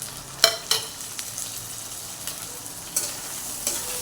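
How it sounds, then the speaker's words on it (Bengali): Chopped tomatoes sautéing with ginger-garlic paste in a pan, a soft continuous sizzle broken by several sharp spatula scrapes and taps, close and without voices. "কুচি দিয়ে এবারে টমেটোগুলোকেও আমি একটু কষিয়ে নেব"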